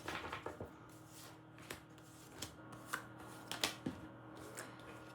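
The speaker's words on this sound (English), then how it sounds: "I'm going to do one more shuffle." Tarot cards shuffled by hand, close and soft, with a steady run of light riffling and tapping strikes over a low room hum.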